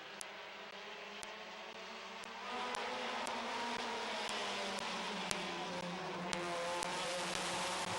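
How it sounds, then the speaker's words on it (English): Several compact race cars buzzing around a speedway oval in an evening heat race, a continuous droning engine whine at a distance that grows slightly louder partway through, with faint sharp clicks scattered throughout. "8 laps we're going in our 3rd compact heat race of the evening."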